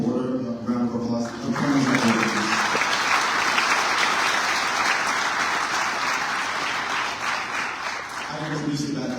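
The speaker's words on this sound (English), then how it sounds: "can we give the whole board a round of applause?" An audience claps steadily for the school board at a Pathway Academy commitment ceremony. The sustained, full-room applause lasts several seconds, with a speaker's voice just before it begins and again as it fades.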